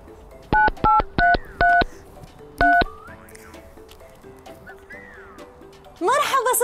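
A telephone keypad dials a number, five loud DTMF tones in quick succession with a pause before the last, followed by a faint ringing line and a burst of noise at the end.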